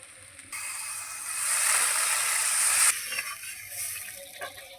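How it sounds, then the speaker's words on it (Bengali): Water poured into a pan of frying spiced potatoes for a Bengali pangas fish curry hits hot oil, producing a loud, steady hiss and sizzle lasting a couple of seconds before settling to gentle bubbling. "এবার দিয়ে দিচ্ছি পরিমাণ মতো জল।"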